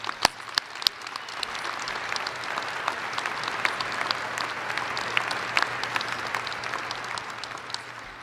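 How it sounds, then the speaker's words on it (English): A commencement audience gives doctoral graduates a round of applause: steady, fairly even clapping from a large crowd, with a few sharp individual claps standing out near the start. "Let's give our doctoral candidates one more round of applause"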